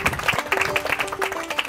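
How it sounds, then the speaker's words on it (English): A small outdoor crowd claps for a sheepdog demonstration at a wildlife sanctuary in Brisbane, Australia, giving brief, scattered applause that is moderately close and steady with no talking. "I reckon she deserves a big round of applause."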